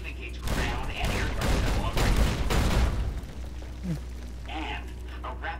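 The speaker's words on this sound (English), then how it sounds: "With the M235 missile launcher, we can engage ground and air" Fallout: New Vegas Securitron fires its M235 missile launcher: a quick, loud burst of booming, crackling launches in the first few seconds, then a quieter tail of game noise.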